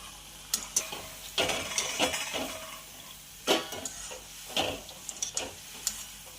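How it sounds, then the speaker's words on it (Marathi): Shankarpali sweet dough pieces fry in hot oil with a steady sizzle under clattering stirs and utensil scrapes against the pan, nearby and moderately loud without speech. "तर आपण तर इथं बघू शकता किती छान असे हे फ्राय होत आहे।"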